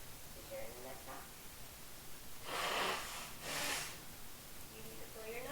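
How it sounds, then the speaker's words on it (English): Two loud, breathy nose blows close to the microphone, each lasting under a second, with a quiet room and faint soft sounds before and after. "I need to blow my nose."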